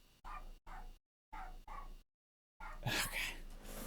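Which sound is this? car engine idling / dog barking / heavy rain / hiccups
dog barking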